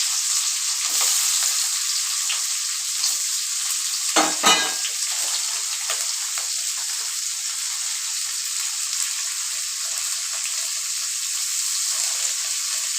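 Onions, green chili, mustard seeds, urad dal and chana dal fry in hot oil for onion rice, a loud, steady hiss of sizzling with a brief burst of stirring or added ingredients midway, no voices.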